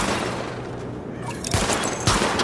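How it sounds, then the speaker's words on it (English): Weapon-test gunfire at targets in The Division video game, a loud sustained volley of shots with a couple of sharper, heavier reports near the end. "Open fire at the highlighted targets."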